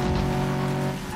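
A car in the video game Medal of Honor Warfighter drives with a loud, steady engine drone and a sustained tire squeal, close and continuous for about a second before easing slightly.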